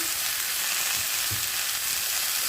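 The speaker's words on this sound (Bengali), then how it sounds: "ভেজে নেওয়ার পরে আবার মশলা দিয়ে একটুখানি ভেজে নিয়ে" Spices sizzling as they fry in a hot pan, a steady close crackle filling the whole clip, with a couple of soft stirring knocks underneath.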